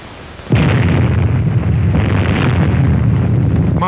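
Atomic bomb detonation at Bikini Island: a sudden loud blast erupts after a brief quiet lead-in, then a sustained heavy roaring rumble that holds steady for several seconds.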